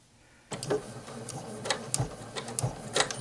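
Janome 8077 sewing machine running a few forward and back stitches, a quiet mechanical whir with small repeated ticks that starts abruptly after a brief pause.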